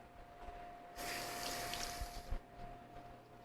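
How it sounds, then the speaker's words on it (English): Water from a tap runs briefly as a hand is rinsed under it in a kitchen, a soft close splashing gush lasting about a second and a half amid quiet room tone. "So, just going to rinse my hand off."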